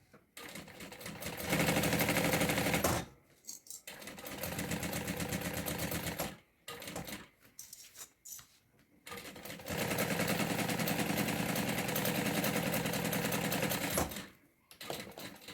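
Sewing machine stitching a bag with reinforced backstitches, a close rapid mechanical whirr in several bursts separated by short pauses and clicks as the stitching stops and reverses.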